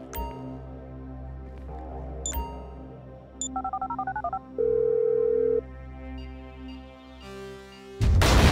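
A phone in a Grand Theft Auto video game: brief electronic chimes, a quick run of dialing beeps, a steady tone, then a loud burst as the call connects over a low game backdrop.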